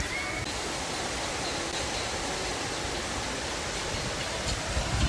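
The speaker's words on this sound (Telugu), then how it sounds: "అంత ఎత్తులో నుంచి నీళ్ళు కింద పడుతుంటే చూడడానికి భలే ఉంది" Water dropping from a height at the Tammileru project regulator gates outdoors, a steady, loud broadband roar of falling water that stays constant throughout, with no voices over it.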